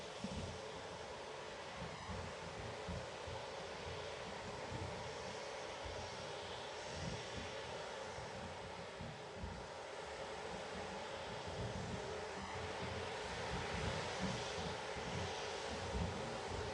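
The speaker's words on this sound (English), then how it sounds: "During which the Vulcan engines are set on, and then the launcher takes off" Ariane 5 rocket lifting off at launch with its Vulcain engines firing, a steady, dense, loud roar and rumble held continuously throughout, buffeted by wind.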